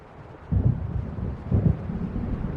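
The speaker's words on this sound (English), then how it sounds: "It seems there's a storm coming." Low thunder from an approaching storm in the game Alan Wake Remastered, two deep rumbles roughly a second apart over a steady windy background.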